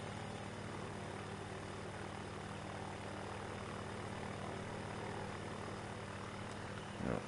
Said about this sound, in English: we're maintaining about 30 to 40 knots in this little ultralight aircraft